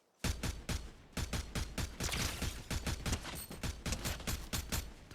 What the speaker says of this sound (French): J'ai l'impression que ça mitraille, mais que ça, à la fois ça fait un peu coup par coup